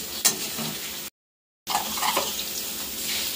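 Salt and turmeric frying in a pan in a home kitchen, a steady close sizzle and hiss with a brief stir clatter, cut by a short silent gap before the sizzling resumes.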